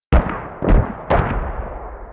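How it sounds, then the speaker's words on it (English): Three sharp booming mortar launches and explosions in the game Squad, about half a second apart, each trailing off in a rumbling echo, loud and close. "Launch sounded the same. Explosion sounded the same."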